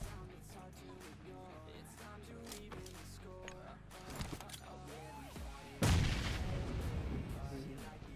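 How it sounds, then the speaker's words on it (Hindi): A grenade glitch in the mobile battle royale game PUBG Mobile produces a sudden loud blast partway through, following a stretch of busy game sounds and music, with the boom's rumble trailing off to the end. "और आप लोगों के सामने प्रस्तुत है ग्रेनेड का ग्लिच"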